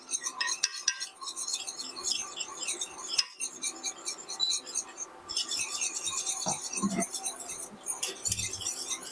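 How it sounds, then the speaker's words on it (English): A spatula stirs thickening turkey gravy in a pan, giving steady soft scraping and clinking against the metal with light sizzle throughout, close and moderately loud, with a few brief thumps. "We're going to take a little bit, mash it into our spatula, start stirring."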